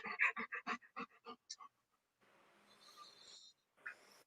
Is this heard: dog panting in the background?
yes